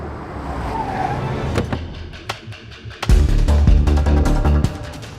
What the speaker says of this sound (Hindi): आप लोग हट जाइए, गाड़ी आ रही है, प्लीज हटिए।